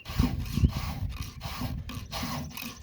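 A hand file rasps rhythmically across the teeth of a Husqvarna 394xp chainsaw chain, with repeated short, close scraping strokes at a steady pace and no talking.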